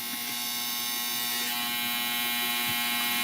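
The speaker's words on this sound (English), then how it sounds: "Sorry, it's a dryer." A clothes dryer running indoors, a steady, loud electric hum with a buzzing drone that holds unchanged throughout.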